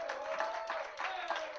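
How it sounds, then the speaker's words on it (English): Faint applause from a stand-up comedy crowd welcoming a comedian to the stage, steady clapping under a higher tonal hum. "Y'all give a round of applause for Tad Shade."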